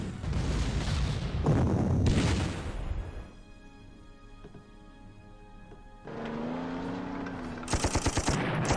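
Heavy artillery and gunfire in the wartime strategy game Panzer Corps, with a dense run of loud bursts and booms up front, then a quieter rumbling stretch, and sharp rapid impacts returning near the end.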